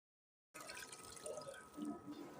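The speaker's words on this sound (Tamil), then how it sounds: "2 டம்ளர் தண்ணீர் ஊற்றி" Two tumblers of water poured into a pot of country chicken gravy with ground coconut, a steady splashing, trickling pour that starts abruptly and runs on, close and moderately loud, with no talking.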